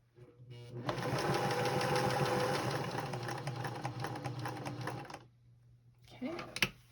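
Sewing machine stitching quilt binding on a star table topper, a fast rattling run of needle strokes lasting several seconds, then stopping and giving a brief clatter, close and fairly quiet.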